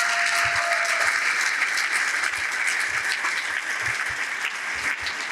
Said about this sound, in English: let's give the panel a round of applause there.